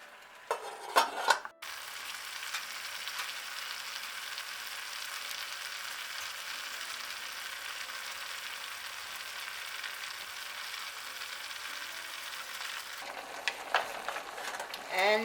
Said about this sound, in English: cook in its own juice, so to speak, and we'll come back to this and let you see the process of cooking the oxtail